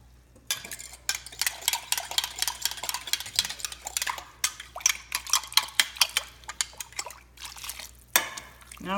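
Bitterballen mixture being stirred and mixed in a pot, a steady series of scraping, clinking strokes against the metal, close and fairly quiet with no talking.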